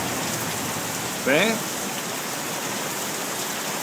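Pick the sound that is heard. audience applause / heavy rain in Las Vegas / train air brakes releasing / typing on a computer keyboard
heavy rain in Las Vegas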